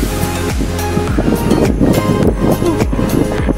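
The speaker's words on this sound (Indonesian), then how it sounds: "Angin lumayan nih, segar." Strong wind buffets a microphone high up on a tower during rooftop internet equipment installation, a loud continuous roar with gusty swells and thumps and no clear talk.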